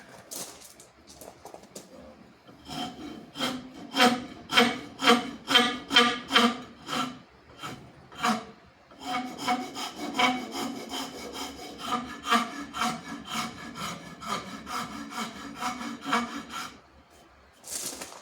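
A coarse file rasps along a wooden backup handle for a Japanese splitter in a long run of steady back-and-forth strokes, close and fairly loud. It pauses briefly midway, then continues at a quicker rhythm with no talking.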